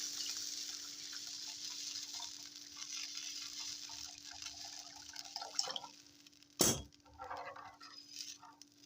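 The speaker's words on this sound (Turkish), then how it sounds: "kavrulan salçamıza suyunu ilave ediyoruz." Water is poured into fried tomato paste in a pan, giving a faint, quiet liquid splashing and trickling with a brief louder splash near the end.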